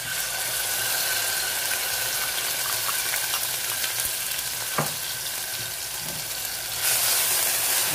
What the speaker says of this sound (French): une fois que votre huile est chaude, vous baissez le feu et vous allez donc verser les oignons